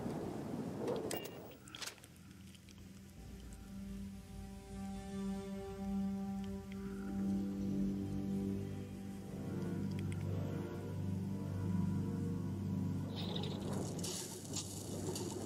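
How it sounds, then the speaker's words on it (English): Corrosive, scalding rain falls in the video game Starfield, a steady patter that runs for the whole stretch beneath a low droning rumble, with no talk over it. "I don't like my corrosive, scalding rain."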